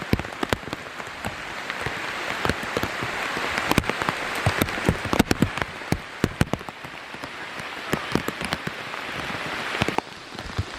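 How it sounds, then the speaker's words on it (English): Rain falls in the woods, pattering steadily with many sharp close drops, some landing nearby on a plastic bag or hat, a constant moderate hiss throughout with no talk. "So yeah, there's that rain."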